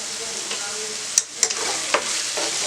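A spatula stirs jeera mutton curry in a pan, a soft sizzle under a few sharp scraping clicks against the metal, close by and brief.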